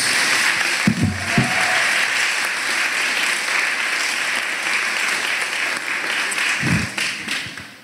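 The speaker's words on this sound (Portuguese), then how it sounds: "Aplaudam o Senhor por isso, em nome de Jesus." A church congregation applauds during a Sunday worship gathering, steady, full-room clapping that continues loud throughout, with a few brief low thumps and bursts standing out.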